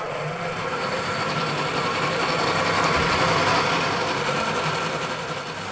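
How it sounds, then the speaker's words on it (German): A hand saw cuts through buffalo horn in a workshop making eyeglass frames, giving a steady, close, continuous rasping drone that runs unbroken throughout. "er muss es klein sägen."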